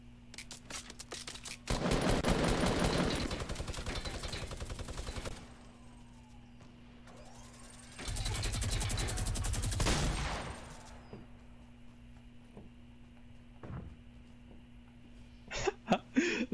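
Fortnite Battle Royale gunfire comes in two loud, dense bursts of rapid automatic fire, each lasting a few seconds with a quieter stretch between, followed by a few sharp single shots near the end.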